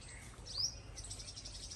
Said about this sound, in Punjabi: ਕਿੰਨੀਆਂ ਚੀਚੀ ਦੀਆਂ ਆਵਾਜ਼ਾਂ ਆਉਣੀਆਂ